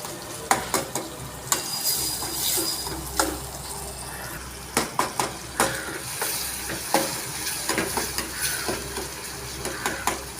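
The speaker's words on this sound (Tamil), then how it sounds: "தக்காளி சேர்த்து நல்லா வதக்கணும்." Tomatoes and onions sauté in oil for an egg podimas base, a continuous close sizzle punctuated by frequent sharp spatula scrapes and taps against the pan, with no voices.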